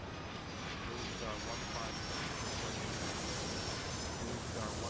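Airplane engine roaring steadily during takeoff in the airport management game Airport Madness 3, a continuous broadband rumble filling the whole stretch, with voices faintly present underneath.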